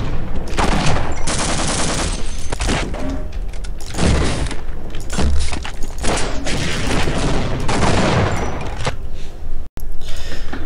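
Rapid dense gunfire in Half-Life multiplayer, loud continuous bursts of automatic shots and booms filling the whole stretch with only brief gaps, ending in a sudden cut.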